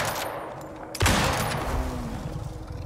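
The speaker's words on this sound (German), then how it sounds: "Oh ja, das war gut geschossen." A gunshot in the survival video game Icarus cracks out loud and sudden after a quieter stretch of game ambience, then a long reverberant tail fades away, with no talk.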